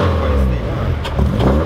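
A 1997 Honda car engine revs hard and close, with a loud swelling mechanical roar that rises and falls across the clip, and brief voices are heard faintly underneath.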